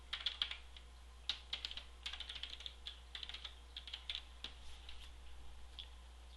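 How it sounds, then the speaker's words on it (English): Rapid, irregular clatter of fingers typing on a computer keyboard, close and fairly quiet, with short bursts and brief pauses and no voices. "In the address line, we're going to type who we want it to go to."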